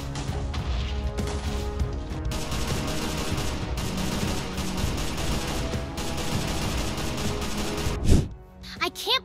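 Rapid bursts of gunfire from a Minecraft parody game fill the scene, a dense, continuous clatter of shots with loud impacts, and a sharper crash near the end.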